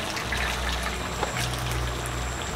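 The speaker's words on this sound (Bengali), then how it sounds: "জল মাংস দিয়ে দিলাম, অল্প করে জল।" Water poured in a small amount into meat being cooked down in a pan for kosha mangsho, a steady near trickle and splash lasting a couple of seconds over a low kitchen hum.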